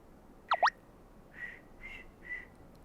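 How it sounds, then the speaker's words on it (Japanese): A person whistles a short pair of sliding notes, a quick rising-and-falling swoop, followed by three softer, steady held whistle tones in a quiet room. "口笛を吹く。"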